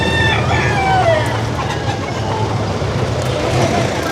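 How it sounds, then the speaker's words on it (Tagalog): Chickens and roosters crowing and clucking outdoors along a street, several birds calling over a constant rumbling background, with a faint voice or two in the mix. "Lahat ng manok, tanggalin nyo!"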